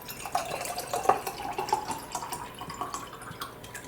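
Water poured from a cup into a cooking pot while making spicy chai, a light splashing trickle with small drips that tapers off gradually.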